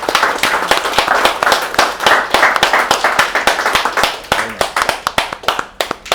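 Enthusiastic applause from an audience at the end of a talk: dense, rapid hand clapping that stays loud and even throughout, with no voices over it.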